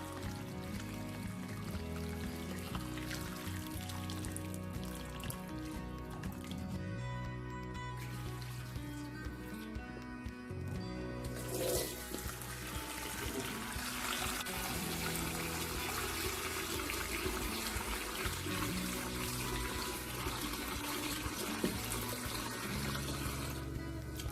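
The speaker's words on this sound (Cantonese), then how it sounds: "呢啲臘腸臘肉咧，我哋俾啲熱水落去洗一洗佢。" Hot tap water runs steadily and splashes for the whole stretch as Chinese cured sausages and cured pork are rinsed under the stream, with a faint musical hum beneath.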